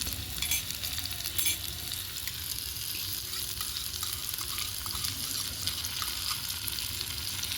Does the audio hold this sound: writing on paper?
no